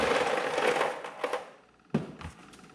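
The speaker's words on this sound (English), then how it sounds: "Let's put the ice in." Homemade ice is dropped into a plastic tray resting on a scale, making a dense crunching clatter at first, then a few separate knocks and a final sharp rattle as the pieces settle.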